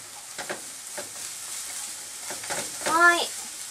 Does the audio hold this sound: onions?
yes